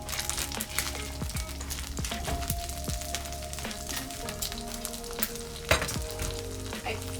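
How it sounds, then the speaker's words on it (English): Tortilla strips frying in very hot oil, a loud continuous crackling sizzle with popping bursts and occasional clinks of a utensil, close up. "It's very hot. So now we're going to add our tortilla strips."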